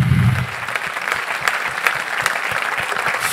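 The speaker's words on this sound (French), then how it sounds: "We give the Lord a hand clap for our work." An audience claps together for the Lord at a church gathering, a dense, lively burst of applause that carries on steadily from start to finish, with crisp individual claps standing out.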